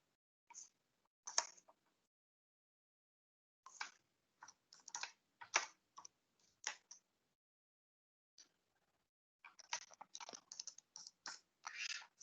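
Typing a Linux command on a computer keyboard: bursts of quick, close key clicks with pauses between groups, growing into a denser run of keystrokes near the end, with no voices.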